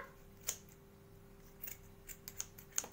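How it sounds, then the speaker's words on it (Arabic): Scissors snip through a dish scrubbing sponge in a quiet room, with several short, crisp cuts spaced irregularly, one early and a quicker cluster toward the end. "هنبدا كده نقص كده الجزء دوت معانا"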